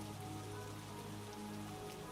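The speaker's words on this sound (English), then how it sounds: "That night, the rain became heavier and it was getting cold." Heavy rain pours steadily on a hillside campsite at night, a dense continuous hiss of drops with no voices.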